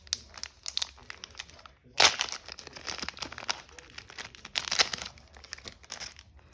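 A plastic pouch holding a knife is opened by hand, giving close, irregular crinkling and tearing bursts with two louder rips partway through and no talk.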